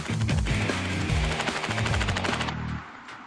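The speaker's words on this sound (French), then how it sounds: "Il charge, arme et vide un plein chargeur de balles de calibre 45, à la cadence de 500 coups à la minute." A .45 calibre submachine gun empties a full magazine at about 500 rounds a minute, a rapid unbroken burst of sharp reports that rattles for roughly two and a half seconds, then stops and leaves a short ringing tail.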